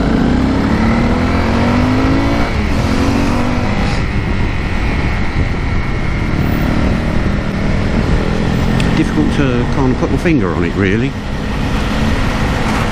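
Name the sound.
road traffic in Thailand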